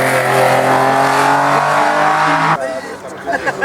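A Porsche 935 race car roars past at a hill climb, loud sustained engine note with strong harmonics, then the sound cuts down abruptly as it moves on.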